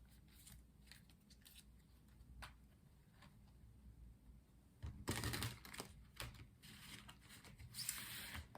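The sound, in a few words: shuffling tarot cards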